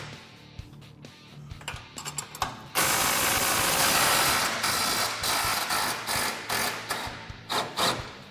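A ratchet takes nuts off radius arm bolts during a Honda Talon rear bumper install, starting with a few clicks before a sustained loud whirring run of a powered tool and then short bursts, close up.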